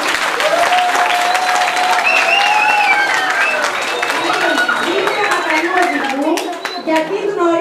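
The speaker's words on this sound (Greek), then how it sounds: "Χειροκροτήστε παρακαλώ." Parents and children applaud loudly at a children's road-safety award ceremony where good-driver diplomas are handed out. Vigorous clapping runs under excited children's voices and shouts, then eases off near the end.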